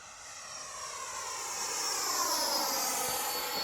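90mm Freewing F-18 Hornet RC jet making a flyby: a high ducted-fan whine and rushing roar that swells steadily as it approaches, then holds, heard alone at moderate distance.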